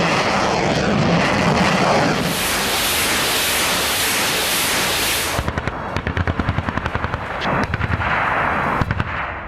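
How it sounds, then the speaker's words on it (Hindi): Russian Tu-160 strategic bomber engines roar over snowy fields, a loud sustained jet rumble that swells and then breaks into rapid crackling bursts near the end. "बर्फीले मैदानों पर रूस का Tu-160 स्ट्रैटेजिक बॉम्बर गरज रहा है।"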